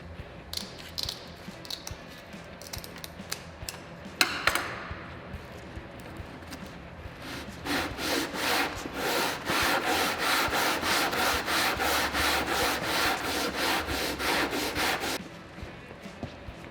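Wood being sanded by hand to shape the radius of an electric guitar fretboard, with scattered light scrapes early on, then a long run of fast, rhythmic rasping strokes, close and clear, with no voices.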